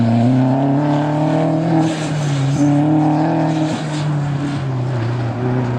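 A loud Mini race car engine drones steadily at close range at an autocross, its pitch rising and dipping slightly as it drives hard through the course.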